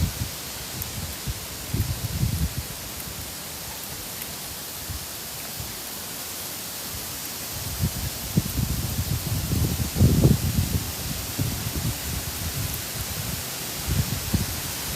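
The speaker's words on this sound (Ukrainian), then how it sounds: "Ось ми прийшли в поле. Тут вітряно." Broadband rushing noise with gusty swells, rising and falling unevenly, as wind buffets across an open field; no voices.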